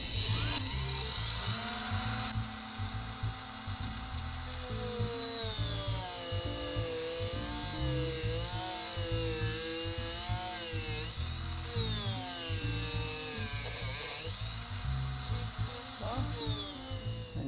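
A power tool cuts through a metal can during a brass chassis build for a 1/32 scale model car, giving a steady, high, whining grind with shifting pitch that runs close and unbroken, with no talk over it.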